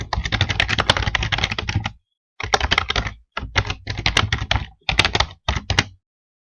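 Fast typing on a computer keyboard while entering an email address during a website sign-up, dense bursts of crisp key clicks separated by short pauses, close and clear with no speech.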